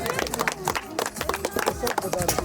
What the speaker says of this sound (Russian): Так, аплодисменты, давайте поддержим Амира тоже.